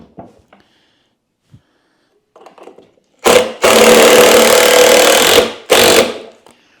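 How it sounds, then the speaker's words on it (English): Rolling workbench parts being fastened together with a power screwdriver: two loud, close bursts of whirring driving, the first about two seconds long and the second shorter, preceded by faint taps and handling noises. "This should be interesting, screwing this together."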